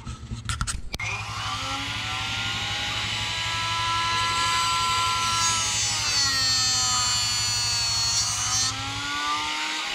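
A high-pitched power tool trims the shaft of an arrow for a traditional bow, starting with a few clicks and then whining steadily and loudly for about eight seconds, its pitch dipping slightly under load before it stops.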